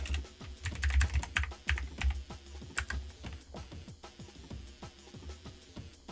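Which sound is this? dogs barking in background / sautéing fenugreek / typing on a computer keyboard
typing on a computer keyboard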